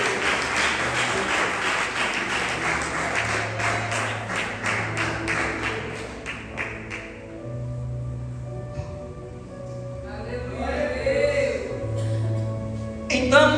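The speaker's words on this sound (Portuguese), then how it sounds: "Uma salva de palmas, pelo menos." Church congregation breaking into applause during an Easter sermon, a burst of dense clapping for several seconds that thins out, followed by quieter room sound with some voices and organ-like tones.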